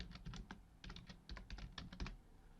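Quick, irregular keystrokes clatter on a computer keyboard, a close, fairly soft run of typing in short bursts with tiny pauses and no talk.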